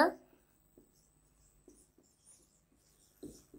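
Someone writes on a board during a math lecture, leaving a few short, quiet scratching strokes spaced out over near silence, with a brief voice sound at the start.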